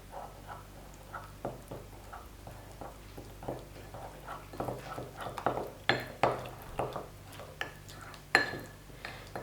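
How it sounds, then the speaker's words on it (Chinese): A spoon stirs flour and cooking oil into a thick paste in a bowl, giving soft scraping and light clinks against the dish, quiet and irregular, with the taps growing sharper toward the end. "搅拌均匀。"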